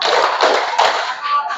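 A group claps together in a dense, steady wash of hand claps with a few stronger pulses, as in the Indonesian counted clapping chant 'tepuk', loud and close with faint voices mixed in.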